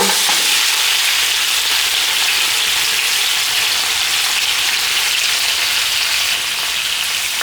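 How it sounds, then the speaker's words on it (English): Spiced lamb and beef pieces fry in a hot pan with a loud, dense, continuous sizzle that fills the whole stretch and has no talking. "first we're going to cook the lamb and the beef"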